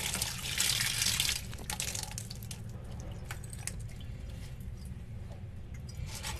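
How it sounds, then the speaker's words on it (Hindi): Green chillies being washed under a running kitchen tap, with a steady stream of water splashing and trickling throughout, loudest at the start. "रनिंग वाटर के नीचे इन्हें अच्छी तरीके से वॉश कर लें"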